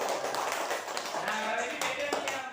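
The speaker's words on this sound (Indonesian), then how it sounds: "Silakan tepuk tangan buat kelompok 4" A classroom of students claps for a group, light and scattered, while talk runs throughout and partly covers the applause.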